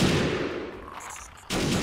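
Bursts of video game gunfire, dense rapid shots that fade off into a quieter gap with a few distant pops before another loud volley erupts.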